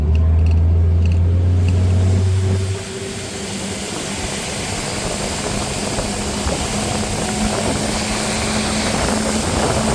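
Motorboat with its power trim lowered all the way, its engine roaring loudly and then dropping to a steady, sustained drone as the hull climbs onto plane, with no voices.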